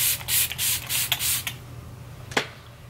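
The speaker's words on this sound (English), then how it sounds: "now I'm just gonna spray my face again" Several quick hissing spritzes of face mist from a pump mist bottle in rapid succession, then a pause and one final short spray, close up.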